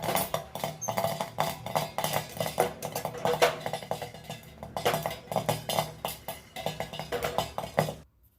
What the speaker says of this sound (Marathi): ह्या लाह्या बघा कशा उडायला लागल्या तरी त्यांना झाकण ठेवून मी लाह्या बनवून घेते